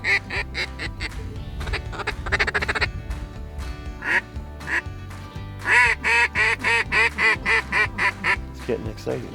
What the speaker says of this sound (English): Seen probably about 50 or 60 ducks in the last 5 minutes.